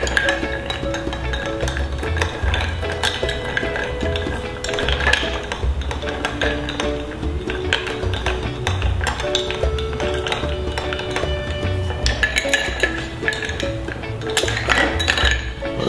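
Ice and glassware clink and chink steadily while Rum Sour cocktail ingredients are mixed together, bright repeated taps over a dense busy background.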